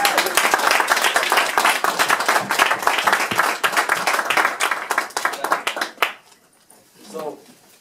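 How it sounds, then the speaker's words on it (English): A final round of audience applause at an evening political forum on independent and third-party candidates, loud crowd clapping that cuts off sharply, followed by a brief voice in a quieter room. "First, let's give a final round of applause."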